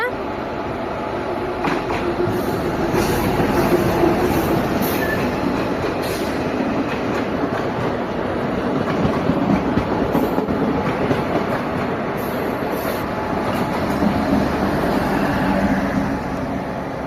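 A train rolls steadily past, its loud continuous rumble and rattle of rail cars filling the whole stretch, with a few faint voices of onlookers underneath.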